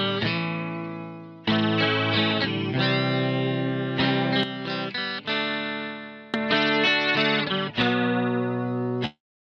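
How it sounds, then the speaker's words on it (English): A synth part runs through the Moogerfooger ClusterFlux plugin on its Flanger Danger preset. Sustained chords swirl with sweeping flanger and chorus modulation, restruck several times, and play loud with no talking. "That is the Flanger Danger in the ClusterFlux."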